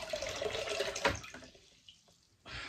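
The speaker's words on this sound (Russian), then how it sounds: "Сливаем воду." Water solution being drained from orchid pots after soaking, a pouring, splashing stream that trails off into scattered drips before another brief gush at the end.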